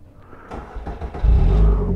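A trike engine cranks briefly and then catches, bursting into a loud, close, deep rumbling idle that holds steady to the end.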